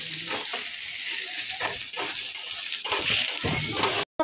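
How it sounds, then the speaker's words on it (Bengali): Onions tossed into hot oil with cumin seeds sizzle loudly and steadily up close, with stirring scrapes and clatter against the pan before a sudden cut to silence near the end. "আমার জিরেটা প্রায় গরম হয়ে গেছে, আর এর জন্য আমি এই যে পেঁয়াজগুলো আমি দিয়ে দিলাম"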